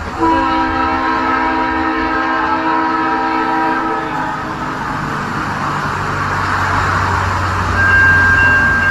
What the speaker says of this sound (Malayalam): ട്രെയിൻ നീലേശ്വരം സ്റ്റേഷനിലേക്ക് കയറുന്നു